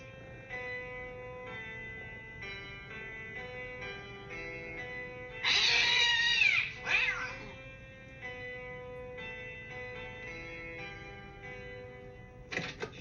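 A cat gives a single loud, drawn-out meow, with a second shorter cry right after, over soft background music and a faint ticking.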